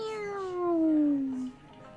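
A cat gives a single drawn-out meow that slides downward in pitch, close and clear, fading out after about a second and a half.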